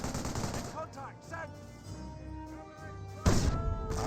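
Rapid gunfire and bursts of shots from a Company of Heroes 1 battle, British against Wehrmacht, with scattered crackling shots throughout and a loud burst near the end, mixed with other battle sounds.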